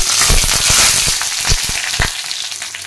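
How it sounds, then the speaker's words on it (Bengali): Whole cumin seeds, two dried red chilies and two bay leaves sizzle in leftover oil in a kadai after vegetables were fried, a loud close crackling hiss with sharp pops, alone with no talk. "সবজি ভাজার পর কড়ায় যে তেল আছে তার মধ্যে আমি ফোড়ন দিচ্ছি 1/2 চামচ গোটা জিরে, 2টো শুকনো লঙ্কা আর 2টো তেজপাতা"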